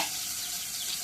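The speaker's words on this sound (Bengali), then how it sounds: "এখন তেল দিয়ে দিই।" Oil sizzles as it heats in a hot pan, a steady hiss that is faint and short and has no voices over it.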